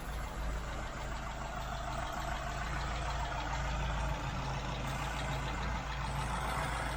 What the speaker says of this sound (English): The only rattle you get now is the PCV valve, which is normal.